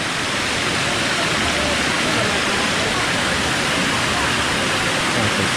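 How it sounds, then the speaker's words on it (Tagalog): Roar of Gabur-Gabur Falls, a broad, steady rush of falling water that stays loud and constant throughout, with no break or change in intensity. "Gabor Falls."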